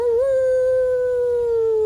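A dog gives a single long, clear howl, loud and close, sliding up slightly at the start and then holding a steady pitch before fading a little.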